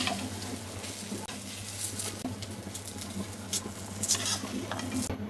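Eggplant frying in mustard oil under a lid, a quiet steady crackle and sizzle with occasional spatter pops over a low background hum, no voices.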